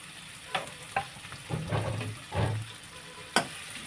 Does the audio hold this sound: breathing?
no